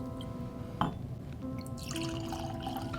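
Little Book The Infinite II bourbon, bottled at 120.8 proof, being poured into a glass: a brief clink of bottle on glass followed by a close, gentle liquid pour and trickle, with no voices.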